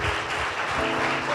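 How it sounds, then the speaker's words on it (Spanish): A church congregation applauds the Lord, a dense and loud wash of clapping from many hands that continues without a break. "Dale un fuerte aplauso al Señor."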